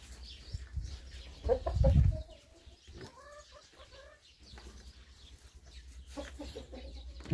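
A year-old rooster on a farm gives a few soft clucks and a brief flutter, faint against quiet background noise.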